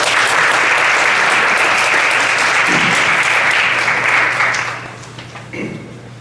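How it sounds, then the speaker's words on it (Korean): Audience in a church hall applauding to welcome a pastor before a sermon, loud dense clapping from a large crowd that holds steady and then thins out toward the end. "네, 박수로 맞이하겠습니다."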